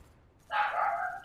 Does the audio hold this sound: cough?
no